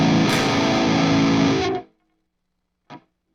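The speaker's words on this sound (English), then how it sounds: "You can hear that this has a lot of noise clearly." A Hughes & Kettner Warp X high-gain guitar amp hisses and hums loudly with heavy idle noise, then cuts abruptly to silence, followed by one brief burst of noise.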